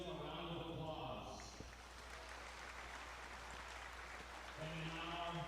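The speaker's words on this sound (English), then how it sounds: "Please give them a round of applause." Applause from a crowd in a gym at a college volleyball game, steady clapping that fills a few seconds between stretches of amplified announcer talk.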